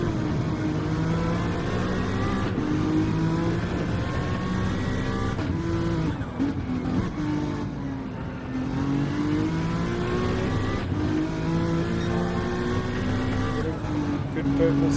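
Racing engines of cars lapping Trial Mountain Circuit in the Gran Turismo video game drone and rev continuously, with pitch rising and falling through shifts, under steady commentary speech throughout.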